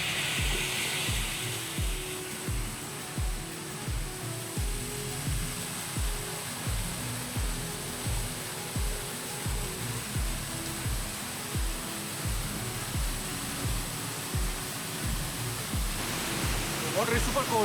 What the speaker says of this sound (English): here we are at our first waterfall.